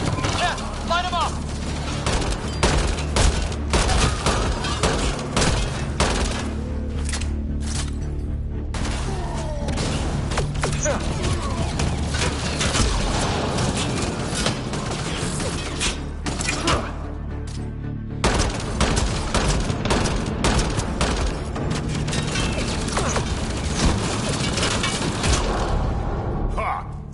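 PS4 shooter firefight with sustained rapid gunfire, bursts of automatic fire and occasional heavy thumps and shattering, loud and continuous with a voice talking over it at times.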